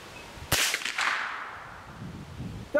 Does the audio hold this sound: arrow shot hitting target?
yes